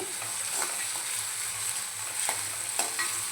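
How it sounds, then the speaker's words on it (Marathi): Finely chopped tomato is sautéed in a pan for a cashew nut bhaji, making a steady sizzle with a few sharp spatula scrapes and clicks close by. "आता टॉमॅटो नरम होईपर्यंत आपल्याला परतवून घ्यायचं आहे"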